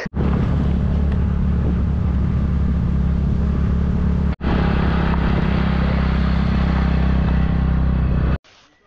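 A motorbike rides through forest and paddy fields, steady loud engine drone and wind rush, cut by a brief break midway.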